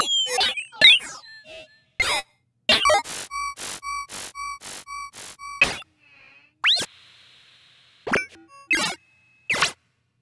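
A string of AI-recreated UI and chiptune-style effects: short plops, boings, bleeps and a run of evenly spaced tonal beeps, each separated by silence, crisp and close with no talking.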